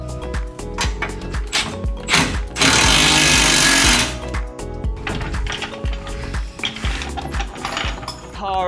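Impact gun tightening a ball joint nut on a lowered Mazda Miata suspension, a loud sustained burst of hammering rattle lasting about a second and a half amid workshop clatter and clanking.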